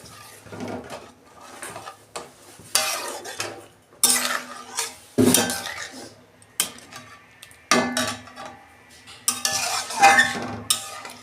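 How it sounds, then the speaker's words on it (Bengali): A spoon scrapes and clinks against a metal pot while sugar goes into papaya dal, giving bursts of sharp clatter separated by short quiet gaps, close up and with no talking. "অল্প চিনি দিচ্ছি"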